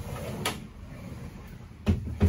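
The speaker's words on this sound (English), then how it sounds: "you can slide these doors all the way down." Sliding doors on a 2018 Sea Ray 400 Sundancer yacht moved along their track, giving a few close knocking thuds and rolling clunks over a quiet cabin background.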